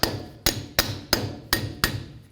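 A wheel hub cap being tapped back onto the front hub of a 2007-or-later Toyota Tundra with a hammer, six loud, sharp metallic strikes at a steady, even pace, close up with nothing else heard.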